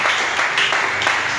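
A church congregation breaks into a short burst of dense, steady applause, many hands clapping together at close range.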